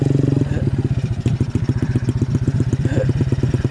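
A motorcycle engine idling close by, a loud, steady low putter of rapid rhythmic firing pulses with a slight change in tone partway through.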